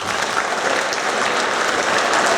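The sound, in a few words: applause for award winners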